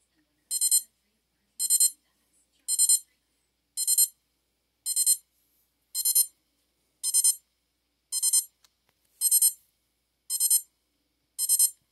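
A Sharp alarm clock sounds its alarm in a quiet room, eleven crisp high-pitched beep bursts spaced about a second apart, each one a tight cluster of electronic tones at an even volume that never grows louder.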